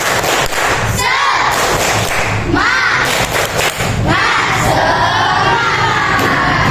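A school class performs the tepuk semangat clapping chant, with loud rhythmic group claps and thumps mixed with children's shouted chanting voices, energetic and close.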